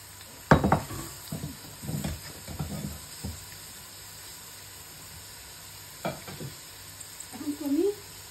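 Onions frying in ghee in a pan until golden, giving a soft steady sizzle broken by a few sharp clinks and scrapes of stirring, with a brief warbling sound near the end.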